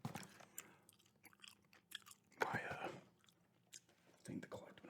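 Quiet, close-up gum chewing with soft wet smacks and crunchy bites in an irregular rhythm, interspersed with faint whispered speech.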